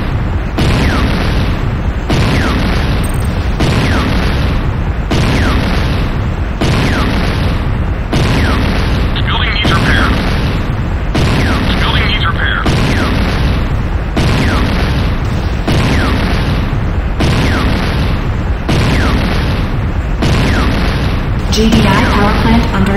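Heavy explosions rock a GDI power plant in the video game Renegade as it is destroyed: loud, booming blasts repeat at a steady rhythm of roughly one per second, dense and continuous.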